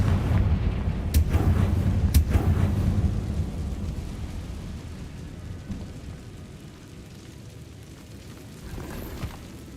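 Confringo blasting spell from Hogwarts Legacy, a deep rumbling explosion with two sharp cracks early on, then a long booming roll that slowly fades.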